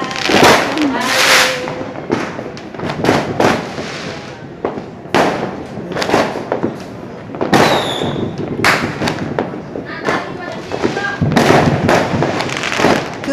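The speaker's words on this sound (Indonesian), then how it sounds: "Kembang api" New Year 2022 fireworks bursting repeatedly in quick irregular succession, loud sharp cracks and pops with crackling tails, some distant thumps between.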